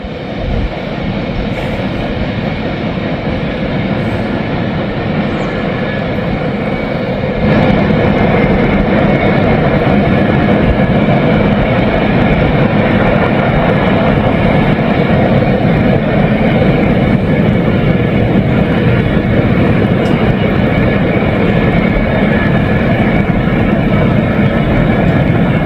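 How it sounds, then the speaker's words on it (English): A Norfolk Southern freight train rolls past in the rain in Kentucky, a loud, steady roar of wheels and cars that holds for the full stretch and grows slightly heavier partway through. "Norfolk Southern train 142"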